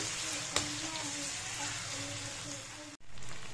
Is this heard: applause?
no